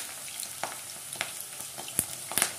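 Sliced sweet potatoes fry in hot refined oil in a wok, a steady close sizzle broken by a few sharp crackles and spoon scrapes as pieces go in.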